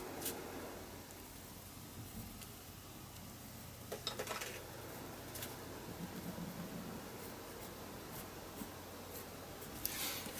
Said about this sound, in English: So I'm going to write it just down here.